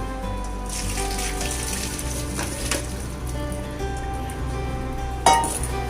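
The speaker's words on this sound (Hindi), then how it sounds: "इस तरीके से फ्रेश वाटर से इसको वॉश कर दीजिए।" Boiled pasta rinsed with fresh cold tap water in a strainer: a steady running, splashing stream of water with a brief clatter near the end.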